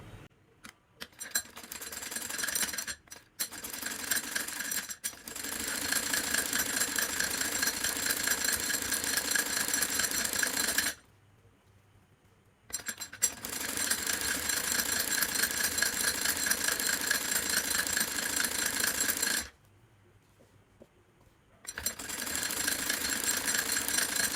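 An electric sewing machine stitches a kameez sleeve cuff (mohuri) just inside the piping, running in a steady, close, loud buzz. It comes in long stretches broken by two brief pauses, with no talking.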